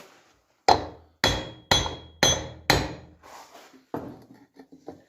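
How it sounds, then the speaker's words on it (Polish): A hammer strikes a wheel bearing, driving it onto a ring through a pipe on a Polski Fiat 125p: five sharp metallic blows at an even pace, then a few lighter taps, close and loud. "delikatnie na początku biję młotkiem, żeby wszystko siadło"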